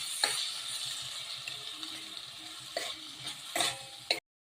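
Tomatoes and onions sauté in a pan for dal khichdi, giving a steady, close sizzle broken by several louder stirring scrapes before the sound cuts off abruptly.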